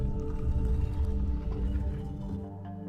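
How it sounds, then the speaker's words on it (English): Croaking frog call from the video game Riven, a low, dense throaty sound sustained through nearly three seconds, loud and close, fading slightly at the end with no speech. "Number 3, frog, is a frog noise."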